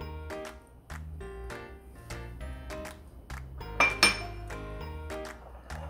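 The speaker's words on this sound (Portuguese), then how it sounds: "Nós vamos misturar a farinha de amêndoa" Almond flour being mixed in a bowl for cocoa cookies: a spoon or utensil scrapes and clinks against the bowl in a steady, irregular rhythm, close and clear, with a couple of louder knocks and no talking.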